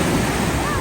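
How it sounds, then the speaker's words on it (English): Ocean surf crashing and rushing at Panama City Beach, a steady broadband roar of breaking waves with wind buffeting the microphone throughout. "the waves were not having it on this particular day. They were busting down that sucker"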